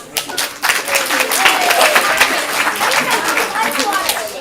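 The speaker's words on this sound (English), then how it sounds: "Clap it up" Comedy improv show audience clapping and cheering, building quickly after a short quiet start into sustained, lively applause with some scattered voices mixed in.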